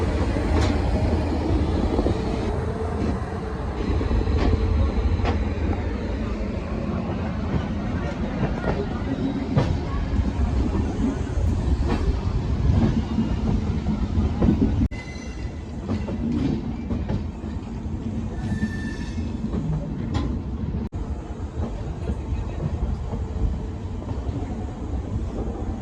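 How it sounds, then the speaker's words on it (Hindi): The Delhi Pathankot SF Express pulls out of Delhi Junction with a loud, continuous rumble of rolling railcars and rhythmic clickety-clack of wheels over track joints, heard up close from on board. "यहाँ पे अपनी ट्रेन को सिग्नल मिल चुका है"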